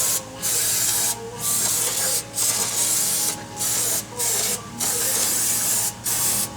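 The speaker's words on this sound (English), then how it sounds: "just going to take and spray it down with some parts and brake cleaner" Parts and brake cleaner hisses from a spray can onto a Nissan 3.0 V6 engine surface contaminated with antifreeze, in about nine short bursts with brief pauses between, close and moderately loud.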